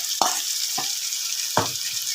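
Tomatoes dropped into onions frying in a pan, a steady bright sizzle with three sharp stirring scrapes spaced through the clip, close and with no talk.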